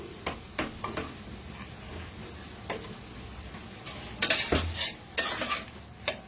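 Ground spice paste of pepper, ginger, cardamom, cinnamon and cloves frying in a pan for jackfruit curry, a low sizzle broken by sharp spoon scrapes and metal clinks, close with no talk.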